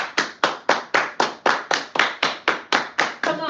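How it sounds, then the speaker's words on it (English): A group of people claps hands in a steady, regular rhythm, about a dozen sharp, loud claps spaced evenly apart, as at a line-dance party with song and crowd energy. "Everybody clap your hands."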